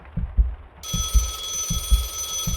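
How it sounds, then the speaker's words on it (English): A shrill, continuous video game telephone ringing starts abruptly over low, rhythmic heartbeat thumps that keep pulsing underneath. "And there's the phone."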